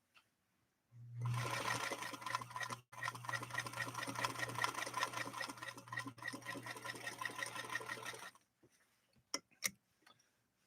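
A Singer Featherweight sewing machine runs steadily for about seven seconds, stitching through fabric with a fast, even mechanical chatter and a low motor hum, broken by a brief pause before it stops and a few clicks follow.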